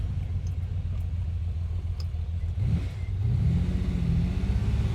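A 1967 Ferrari 330 GT 2+2 Series II with a V12 engine, heard on the road: a loud, steady low engine drone that rises in pitch as it revs up partway through, alone without talk.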